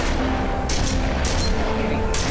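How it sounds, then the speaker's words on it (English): Gunshots in The Wolf Among Us video game: three sharp, spaced cracks over a dense, rumbling background of noisy action. "Why are they so shooting and missing? How much ammo do these guys have?"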